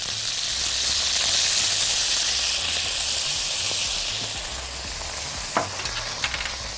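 Vinegar hits garlic frying in a pan for moussaka, setting off a loud, steady hiss of sizzling and steam that softens slightly, with a few sharp pops near the end.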